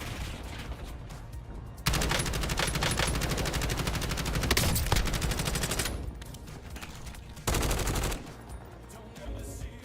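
Rapid automatic gunfire in a video game rattles in long sustained bursts, a dense loud stream of shots with short breaks between volleys.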